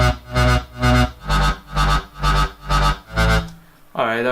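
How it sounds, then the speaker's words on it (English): A synth bass line pulses in eight even, heavy notes with deep sub-bass underneath, loud and close, ending with a brief sustained tone. "with the sub bass it sounds like this"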